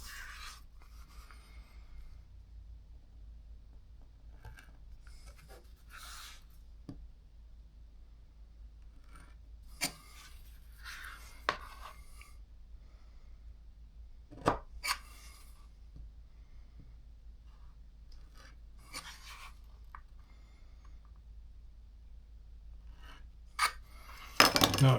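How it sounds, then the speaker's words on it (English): A knife is rocked through leather to round off the corner of a sheath, giving scattered soft crunches and clicks in an otherwise quiet room. "chop just by rocking to give that a little bit of a rounded corner"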